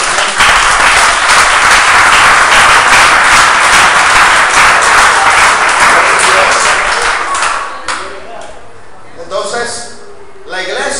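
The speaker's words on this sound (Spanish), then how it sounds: "Den un aplauso a Cristo por él" A church congregation applauds, dense sustained clapping that fills most of the clip before thinning out into a few scattered claps and voices.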